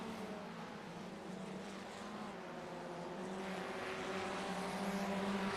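Formula Ford FF1600 race cars in a sim racing game at Oschersleben, a steady buzzing engine drone with sustained tonal whine holding and gradually swelling, moderately faint, without talk.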